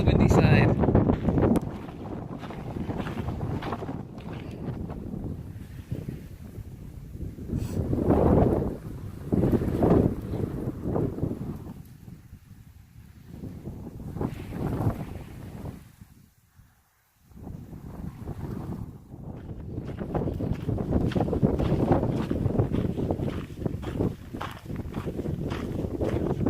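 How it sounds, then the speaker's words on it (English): Strong gusts of wind buffet the microphone on an exposed, windy side of Whitewater Canyon along a hiking loop, rising and falling in heavy roaring waves with brief lulls, while someone speaks at times. "Wow, this is the windy side."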